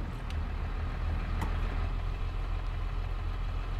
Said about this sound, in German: Hier müssen wir eben Motor anschmeißen.